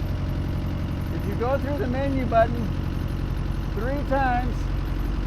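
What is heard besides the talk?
reefer trailer refrigeration unit running on diesel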